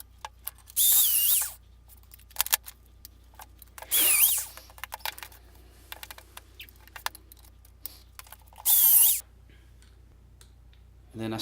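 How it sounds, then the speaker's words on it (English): A power drill whirs in three short high-pitched bursts, drilling pocket holes in wood, separated by quieter pauses with light clicks and handling noises. "So I'm drilling pocket holes into this support piece."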